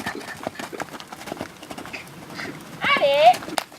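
A horse named Loulou trots at a liberty-training session, hooves thudding in a light steady rhythm under a woman's spoken commands, followed by a short louder whinny-like sound near the end.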